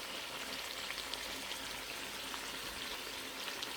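Plov ingredients fry in a cauldron with a soft, continuous sizzle and faint crackles scattered throughout, quiet and steady.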